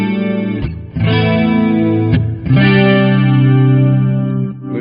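An electric guitar plays through the clean channel of a Marshall JMD:1 50W combo, with sustained chords ringing over a chorus-like shimmer. Three strummed attacks are each held and decay slowly, and no one speaks.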